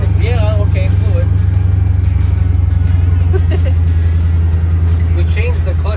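A supercharged Ford with a freshly rebuilt limited-slip rear differential and new differential fluid drives on a test run, its engine a loud, steady low drone inside the cabin while people talk.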